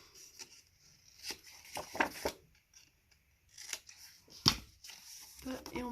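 Paper being cut with scissors during a beginner scrapbooking album session, with short crisp snips scattered among quiet pauses and a voice talking intermittently over the work.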